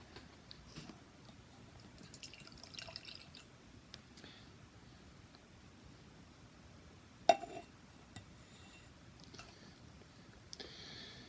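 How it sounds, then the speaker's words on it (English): A viscous stout, Whiskey Hill Black Is Beautiful, poured from a bottle in a basement. It makes a quiet liquid trickle with soft drips throughout and one sharp tick partway through. "Yes, a pretty viscous pour so far."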